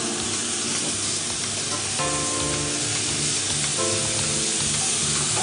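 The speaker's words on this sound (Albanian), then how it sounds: "Ndërkohë që mishi ka marrë një skuqje të lehtë" Meat sizzles and fries steadily in a pan in an Albanian cooking-class kitchen, a continuous close crackling hiss with no talk.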